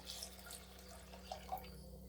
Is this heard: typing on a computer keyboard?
no